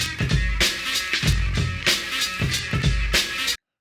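A hip-hop beat plays loud and up front with punchy kicks and a repeating rhythmic loop, then cuts off abruptly at the end.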